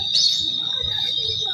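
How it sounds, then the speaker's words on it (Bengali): Birds call beside a lake at an old palace in Hooghly, a thin high continuous trill held throughout with faint chirps layered over it. "পাখিরা ডাকছে"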